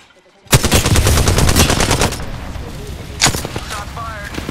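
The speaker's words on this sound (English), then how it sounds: "Shot fired." Rapid, loud gunfire from the Apex Legends video game, with a dense burst of automatic shots for about two seconds followed by a lone heavy shot and softer scattered firing.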